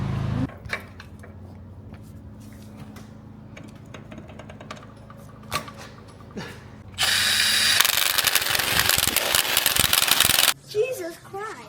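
A ratchet clicks in short bursts while long bolts are tightened on a Nissan 370Z engine during a refresh, with a louder stretch of steady mechanical noise partway through and a voice speaking near the end.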